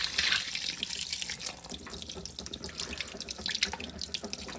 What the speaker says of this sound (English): I don't know why my cold water squeaks now.